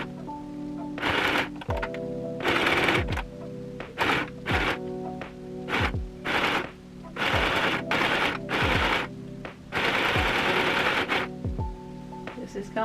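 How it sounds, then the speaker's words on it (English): A sewing machine stitches in repeated short runs, its motor whirring and needle chattering, with brief pauses between bursts. "then we will sew it up so it's a closed pouch"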